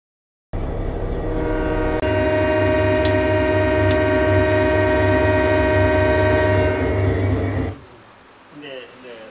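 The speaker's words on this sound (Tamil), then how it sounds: "Train sound, whistling sound song முடிஞ்ச உடனே போடணுன்றது நானே தான் போட்டேன்." A long, loud, steady horn-like whistle blares for several seconds over a rumbling train, then cuts off, leaving lower rolling noise.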